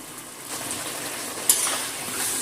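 A paste of tomato, ginger and green chilli fries in a pan, a close steady sizzle with stirring and a sharper spatter of hiss toward the end.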